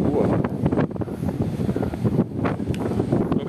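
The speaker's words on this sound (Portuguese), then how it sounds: "Ventando muito, tá, né? Ventando pra caramba." Strong wind of about 25 to 30 km/h at Praia do Forte beach in Cabo Frio roars steadily and loudly across the microphone, buffeting it in constant gusts.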